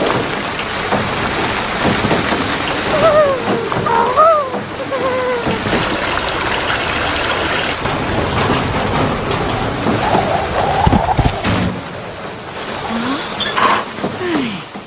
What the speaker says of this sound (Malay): Lebat betul hujan.